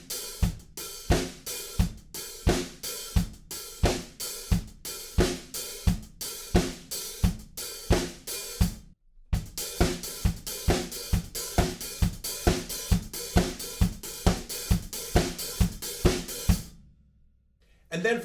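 Full drum kit groove from a song, steady 16th-note hi-hats with backbeat snare and kick hits, loud and close, running alone before stopping near the end.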